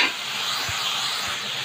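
Chopped large tomatoes go into frying onions in a pan, setting off a steady bright sizzle and hiss with a couple of soft stirring knocks, close and continuous without talk.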